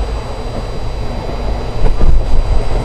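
The Samta Express runs along its rails through hilly country in Odisha and Andhra, producing a loud, continuous rumble and roar from inside the moving train that swells slightly toward the end, without any talking.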